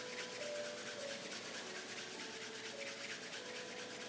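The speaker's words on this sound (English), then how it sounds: "bring your hands together and rub them together" Palms rubbing briskly together during a yoga session, a steady close dry swishing friction that runs continuously for a few seconds with no talking.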